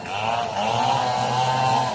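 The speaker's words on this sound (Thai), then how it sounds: "แต่ว่าตอนนี้มือเลื่อยกำลังซอยอยู่พี่น้อง" A chainsaw engine drones loudly and steadily at close range while felling rubber trees, a continuous buzzing whine with no pauses.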